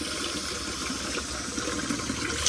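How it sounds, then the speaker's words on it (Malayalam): Water drains through a pipe from an outdoor concrete washing stone at a Kerala village home, a steady close rushing flow that continues without pause and with no talk. "എന്നിട്ട് ഈ പൈപ്പ് വഴി വെള്ളം അങ്ങ് പോവും"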